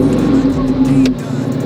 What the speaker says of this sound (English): We'll hear the supercharger start up.